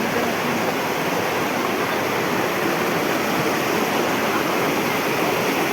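A stream flows at a cold spring in Tignapoloan, Cagayan de Oro, with a steady, loud, close rushing of water that holds constant throughout, with no voices.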